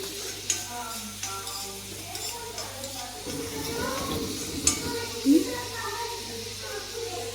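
Masala and egg cook in a pan with a soft sizzle and occasional spatula scrapes and taps, quiet and close, while a person talks over it.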